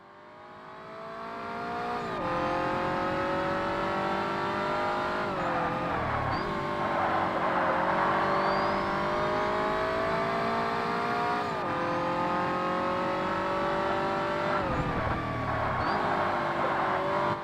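A race car in the original Forza Motorsport on an original Xbox screams at high revs, climbing through gears with sharp drops at each shift, loud and continuous for the whole stretch.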